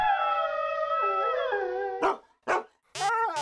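A dog howls in a long, wavering, drawn-out tone, followed by a few short yips and barks, close and clear with no talking.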